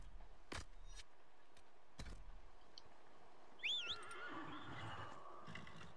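A horse neighs in the fantasy game Dragon Age Inquisition, its whinny rising and wavering once, after a few hoof clip-clops. It sounds over a quiet outdoor ambience with faint bird chirps.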